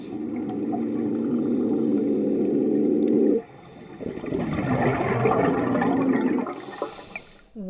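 Monk seal calling underwater, a low warbling, gurgling moan that holds steady for several seconds, breaks off, then returns in a rougher, bubbling stretch before fading near the end.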